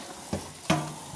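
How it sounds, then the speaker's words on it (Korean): Food stir-frying in a hot pan with a spatula, giving two sharp scraping clacks over a steady close sizzle. "주걱을 활용해서 이런 소리가 날 때 볶아주시면 됩니다."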